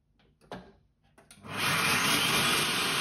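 After a few light knocks and clicks, a blender starts up and runs at a loud steady whir, grinding oats down to a powder for protein pancakes, with no voices over the motor.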